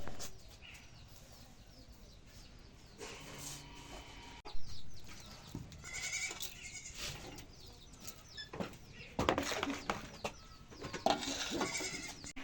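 Goats on a farm bleat now and then nearby, mixed with chicken clucks and a few other bird calls over quiet rustling background noise.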